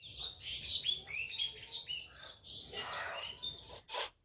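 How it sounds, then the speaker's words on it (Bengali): Birds chirping close by, a series of quick high tweets and trills in irregular bursts over a quiet background. "তোমরা পুরো ভিডিওতে পাখির আওয়াজ"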